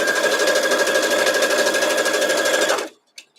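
Sewing machine running steadily and loudly while stitching fabric for a Tea Leaf quilt block, a dense continuous whir for almost three seconds before stopping abruptly, followed by a couple of faint handling clicks.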